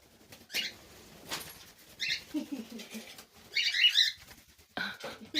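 Pet cockatiels flying indoors give short bright chirps and bursts of wing flapping, scattered and fairly close over about five seconds, with a quiet background.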